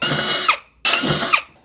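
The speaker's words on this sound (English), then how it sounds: "They want 3/16 drilled here and here, and then on the opposite side." Two short bursts of a power drill boring 3/16-inch holes for trailer mounts, each a whirring spin-up lasting about half a second with a pause between, close and fairly loud.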